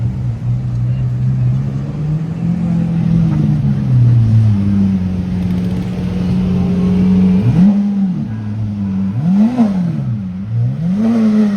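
A Gintani-tuned supercar engine idles with a deep, steady rumble on a Cannes street, then blips through three sharp revs near the end, with voices faint in the background.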